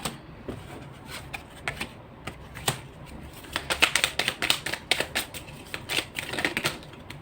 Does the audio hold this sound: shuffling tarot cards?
yes